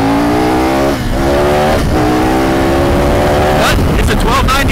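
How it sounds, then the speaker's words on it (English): A 2017 KTM 1290 Super Adventure R motorcycle being ridden in Paracas, Peru, its engine droning loud and close with steady pitch, shifting gears with a couple of brief dips before revving harder. "Coming in hot and filthy is Dirty Sean in the 2017 KTM 1290 Super Adventure R."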